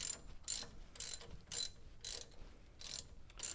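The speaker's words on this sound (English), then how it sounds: "All right, let me loosen the other side," A hand ratchet loosening a bolt in a garage, clicking in short regular bursts about every half second, faint and close with a quiet background.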